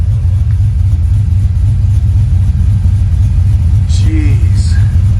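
A car with a rear mount turbo exhaust idles and rumbles steadily up close, a deep continuous low drone that stays fairly even throughout.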